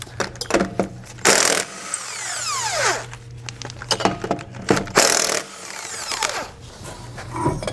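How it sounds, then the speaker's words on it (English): An impact gun removes the lug nuts from a trailer wheel, giving several short loud bursts of whirring, hammering rattle with pitch sweeps as the nuts spin off, close up, separated by clanks and handling noise, with no talk. "I'm going to use an impact gun"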